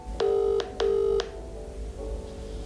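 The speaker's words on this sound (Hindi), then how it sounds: "तो चलिए मैं एक फटाफट से कॉल लगा लेता हूँ" A phone places a call with two clear, evenly spaced dialing tones, then a faint steady line tone.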